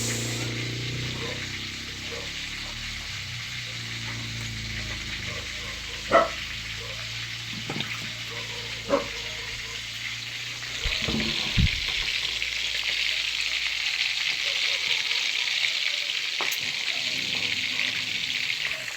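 Sauce heating in a pan for a fried fish dish, a low steady sizzle with a few sharp clinks and knocks, then a louder bubbling hiss toward the end; faint background voices.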